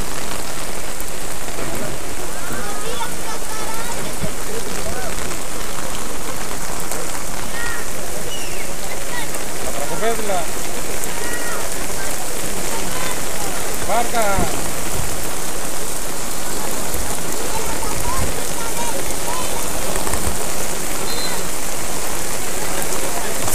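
Torrential rain, turning to hail at times, pours down during an amateur football match, a loud continuous hiss and patter throughout.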